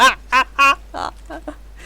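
A person imitates a goose with three short, nasal honks in quick succession, then softer squawking sounds, close up and loud.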